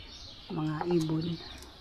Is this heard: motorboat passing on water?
no